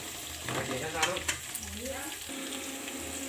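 Onions frying in ghee in a pot for egg biryani, a steady close sizzle with a few louder crackles and stirring scrapes, plus a faint tonal hum near the end.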